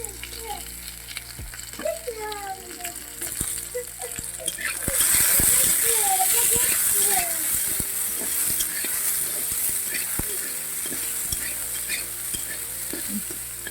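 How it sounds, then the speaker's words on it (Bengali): Cut potatoes frying in a pan give a strong, continuous sizzle that surges louder midway, broken by stirring scrapes, while someone speaks over the cooking at the start. "আলুগুলো অল্প ভাজা করে নেব"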